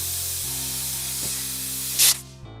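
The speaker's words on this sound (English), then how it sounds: "I'm gonna steam it really diligently to get all of that rouge out of the seats." Jewelry steam cleaner blasting a ring setting in a repair shop, a short loud hiss burst over a steady machine hum with tonal motor drone.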